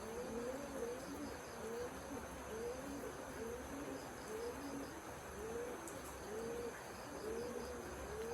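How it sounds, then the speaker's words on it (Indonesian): Birds call repeatedly outdoors at a quiet spot, a rhythmic cooing pattern repeating every second or so over a steady bed of insect chirring, faint and fairly distant with no talking. "Ada suara burung teman-teman ya."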